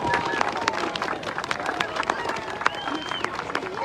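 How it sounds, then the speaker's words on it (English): Crowd applause at an outdoor State House Christmas tree lighting ceremony in Vermont, steady and dense with cheering voices and a whistle-like tone rising over the clapping. "So big round of applause for David"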